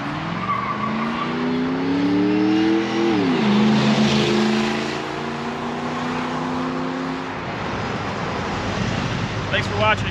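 A 1985 Chevrolet Camaro Z28 IROC-Z engine revs up loudly with rising, layered harmonics, dips briefly, then holds steady before tapering into a rougher rumble near the end.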